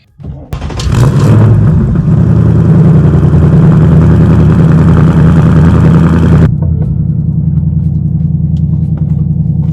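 Ford Mustang Dark Horse V8 cranks to life and settles into a loud, steady deep rumble, the idle dropping slightly after several seconds and continuing alone.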